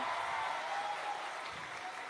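A crowd at a university public lecture claps for Anies Baswedan, a brief, fairly faint burst of applause that stays even throughout.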